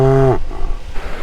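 A farm cow gives one short, loud, low moo that drops in pitch and cuts off quickly, followed by faint outdoor noise.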